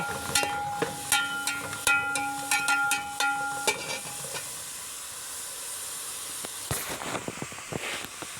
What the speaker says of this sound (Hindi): अभी मैं इसको लगा रहा हूँ तड़का।